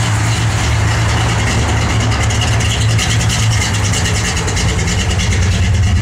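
A 1963 Plymouth Valiant's engine runs steadily close by, a dense, unbroken low rumble with a constant throb and no gear changes, nearly alone.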